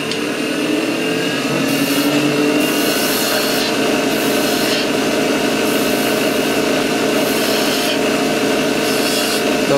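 Wood turning on a lathe with a profiling gouge shaping rounded beads produces a steady, close, continuous scraping and rubbing hiss with faint periodic swells, heard alone without talk.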